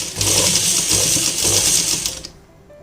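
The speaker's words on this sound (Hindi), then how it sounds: "अब हम इसको ऊपर की तरफ पलट के और इसके ऊपर सिलाई लगा देंगे।" A sewing machine runs steadily for about two seconds, stitching a seam on a sleeveless kurti, with a close, even mechanical whir that stops abruptly near the end.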